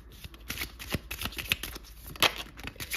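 Oracle cards being shuffled by hand, a run of soft papery riffles and slaps repeating irregularly at close range with no talk.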